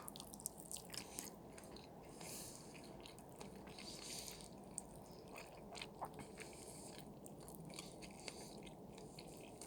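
Close, quiet chewing and biting on grilled chicken skin from Carrefour, soft wet crunches and smacks repeating steadily with no talk.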